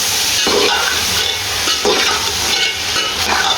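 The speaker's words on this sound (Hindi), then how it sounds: "इधर हमने 1 से 2 मिनट बीफ को इसलिए इसके अंदर बुनाई करनी है ताकि इसकी स्मेल वगैरह ख़त्म हो जाए।" Beef sizzling and frying in a pot for Kabuli pulao while it is stirred, with a dense continuous hiss and brief scraping swells from the spoon, close and loud, no voices.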